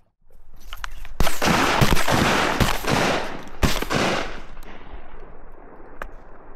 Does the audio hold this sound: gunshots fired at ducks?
yes